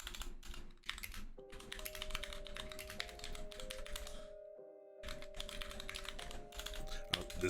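Rapid typing on a computer keyboard, close and continuous in quick bursts of clicks with one short pause, over a faint steady tone.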